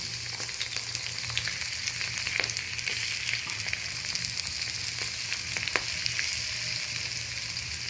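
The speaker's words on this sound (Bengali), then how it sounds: "কেটে রাখা পেঁয়াজটা দিয়ে দিলাম।" Chopped onion with green chillies fries in hot oil in a pan, giving a steady, close, continuous sizzle with faint crackles and occasional stirring scrapes throughout, no talking.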